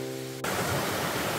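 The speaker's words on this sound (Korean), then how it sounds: "중살리 계곡에 이제 폭포죠 이거." Mountain waterfall in the Jungsanri valley on Jirisan, a thin stream of clear water falling between rocks; steady broadband rushing that starts abruptly after a faint tonal hum and continues loud and close with no talk.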